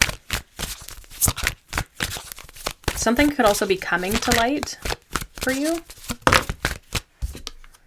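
Tarot cards are shuffled repeatedly, with rapid papery riffles and slaps in quick bursts while someone talks over them.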